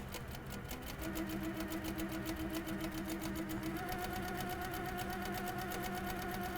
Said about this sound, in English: I'm just going to do some straight stitching for a while